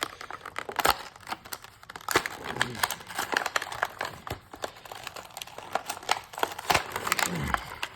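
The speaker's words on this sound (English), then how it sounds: "let's go ahead and unbox this thing" Beyblade Burst Guard Draciel packaging being opened, with plastic and cardboard crinkling and tearing in irregular close bursts that run throughout, alongside occasional handling knocks.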